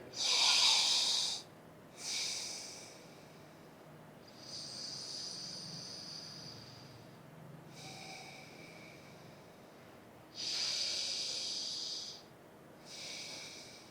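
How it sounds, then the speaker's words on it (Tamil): Slow breaths drawn in and let out through the left nostril during breathing meditation, long airy hissing strokes with pauses between, close to the microphone, with a faint cricket-like hum behind. "இடது நாசியில் மெதுவாக மூச்சை உள்ளெடுத்து மெதுவாக மூச்சை வெளியே விடுங்க"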